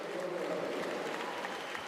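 A Russian crowd at a women's 10m synchro diving final in Kazan applauding, a dense, steady wash of clapping from a large audience heard briefly at a distance.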